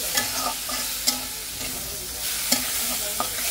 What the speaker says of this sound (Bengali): ডালটা তেলের মধ্যে দিয়ে একটু ভেজে নিতে হবে।